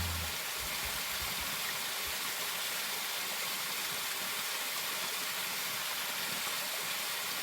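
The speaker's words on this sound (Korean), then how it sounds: "너무 좋다, 물소리." Stream and waterfall water pouring steadily in a remote valley, heard from a spot right beside the falls, a dense, unbroken rushing roar that stays even and fairly loud throughout.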